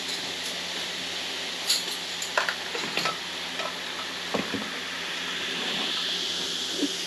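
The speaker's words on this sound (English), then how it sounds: "you hear that sizzling? Baking soda and vinegar." Baking soda and vinegar fizz and sizzle on marinated pork belly skin, a steady close hiss with a few faint clicks and stirring taps, no talk.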